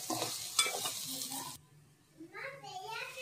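Tiger prawns fry in oil with a close sizzling hiss that cuts off partway, then resumes more softly, with a faint voice in the background.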